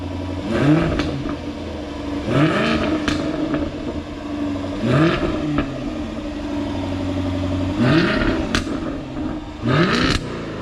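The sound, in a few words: Jaguar F-Type R engine revving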